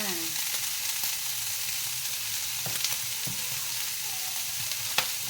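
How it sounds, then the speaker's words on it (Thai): Minced pork with pickled bamboo shoots and seasoning stir-fries in a pan, a steady close sizzle broken by a few sharp spatula scrapes and clicks, with no talking. "ก็ผัดทุกอย่างให้เข้ากันค่ะ"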